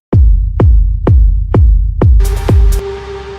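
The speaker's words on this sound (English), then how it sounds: "here's how it sounds without any effects." Synth deep house kick drum with no effects, five deep, booming hits in a steady four-on-the-floor pulse, followed by a brief burst of brighter synth tone, no voices.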